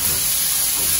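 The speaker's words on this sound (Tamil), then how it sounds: "வெங்காயத்தை கொஞ்சம் நல்லா வதக்கிடணும்." Onions sautéing in hot oil give a brief, steady hissing sizzle, close and even for about a second, with no voices.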